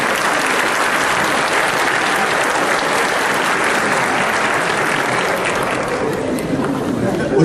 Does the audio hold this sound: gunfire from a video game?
no